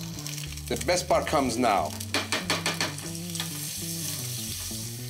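A fish fillet is flipped in a pan of bubbling butter, the sizzle rising under someone talking, with steady background music running throughout.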